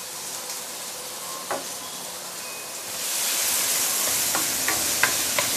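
Galangal and fresh coriander roots sauté in a pan, with a soft sizzling hiss that grows louder and denser partway through, punctuated by a few small clicks and taps of stirring; no one speaks.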